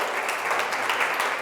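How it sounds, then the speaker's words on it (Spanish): A church congregation applauds loudly, a dense, steady wash of many hands clapping at full strength throughout, close and unbroken, with no one speaking over it. "Da un aplauso bien fuerte"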